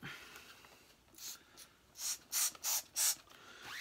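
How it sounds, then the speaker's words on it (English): A few quick pumps of a spray bottle onto an Electrolux 304 cylinder vacuum cleaner, short hissing bursts, the last four coming in rapid succession, close by. "I'm going to spray a little bit more"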